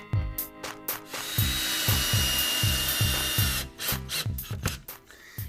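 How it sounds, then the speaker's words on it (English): A power drill drives screws into wood blocking held behind old drywall, with two sustained whirring runs. Short clicks and rattles come before, between and after them. "and run a couple screws into it"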